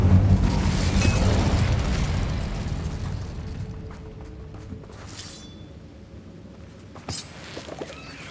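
Incendio fire spell in Hogwarts Legacy, a loud whooshing blast that fades into a low rumble over several seconds, followed by a few faint pops and a short sharp crack.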